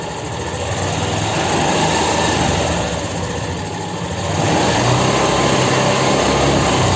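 A motorcycle engine runs loudly and close by at a steady idle, a continuous rough drone that shifts slightly partway through, with no voices.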